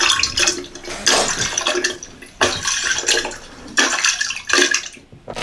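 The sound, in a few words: water dripping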